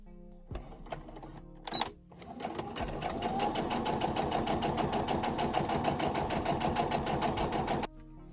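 A sewing machine stitches a seam 0.5 cm from the edge of a wax-print cushion cover in dark thread, running as a fast, even mechanical whir for several seconds after a few brief starts, close and loud.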